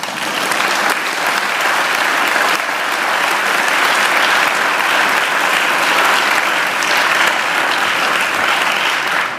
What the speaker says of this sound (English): I think she needs another great round of applause.